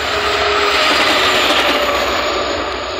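A moving train heard from onboard, a loud continuous roar and rumble that holds steady throughout, with no one speaking.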